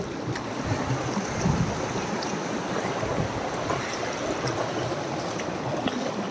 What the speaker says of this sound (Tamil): இங்கே ஒரு இடத்தில் சுழியாய் தண்ணீர் போகும் காட்சி